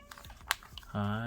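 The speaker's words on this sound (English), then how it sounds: "cat." A pet cat gives a short, clear meow near the end, heard alone after a scatter of light tapping and handling noises.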